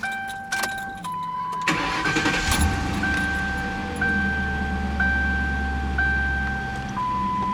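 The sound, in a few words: 2009 Ford Crown Victoria Police Interceptor engine starting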